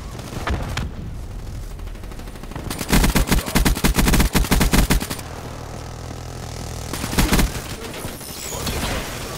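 Black Ops 3 team deathmatch video game gunfire, with scattered single shots and then dense automatic bursts in two clusters, loud and close, with a brief word spoken.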